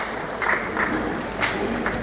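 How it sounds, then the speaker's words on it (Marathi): Brief, light applause from an audience welcoming a speaker at a 75th birthday celebration for a guru, soft scattered clapping over a steady room murmur. "आपण टाळ्या अजून स्वागत करूया त्यांचं"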